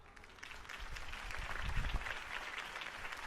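Crowd applause at a Harvey Dent campaign rally in the Telltale Batman video game, a steady wash of many hands clapping that swells in the middle and holds fairly loud for a few seconds without speech.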